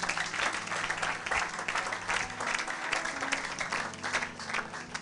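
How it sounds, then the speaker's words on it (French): A church congregation claps and cheers in sustained, dense applause at a New Year's Eve service, filling the room steadily for the whole stretch without any speech. "Acclamez pour la gloire de notre Dieu"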